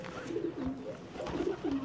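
Pigeons of the old Shakkar Mala Dande Maar home breed coo in a repeated series of soft, low, rolling calls, close by and steady, with no talk over them.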